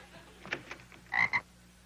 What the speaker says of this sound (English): I found these two frogs swimming in the cement pond.